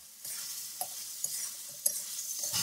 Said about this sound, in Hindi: अब टमाटर गलने तक हम इसको भून लेंगे।